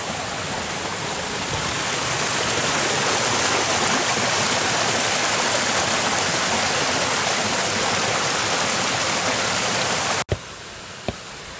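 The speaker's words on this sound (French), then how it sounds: "Et je vous montre ces cascades à l'horizon." Rushing water from waterfalls in the Gorges de la Cesse, a steady broadband roar filling the whole stretch, ending in a sudden cut followed by a couple of sharp ticks.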